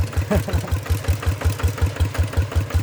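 A Kubota RT100 walking tractor with iron wheels plows a field in first gear, its single-cylinder diesel thumping in a steady, fast, even rhythm close by.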